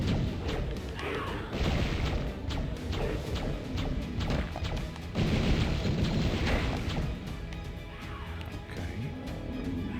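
Constant heavy gunfire and booming blasts fill a chaotic battle in the dark fantasy shooter Hexen, as enemies fire on the player. The loud, dense crashes and thuds run without a break and come in repeated surges.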